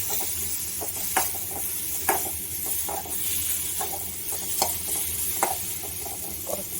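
Tomatoes sautéing in roasted rasam spice powder in a pan, with a continuous hissing sizzle broken by regular light scraping clicks from stirring.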